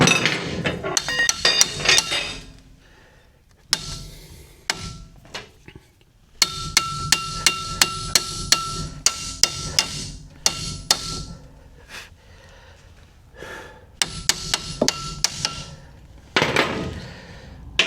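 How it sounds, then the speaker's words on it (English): Sharp metallic hammer taps on Buick Skylark car parts ring out in quick clusters with short pauses between, close and clear, with a faint clink between bursts. "Nothing a couple light taps with a hammer can't fix, right?"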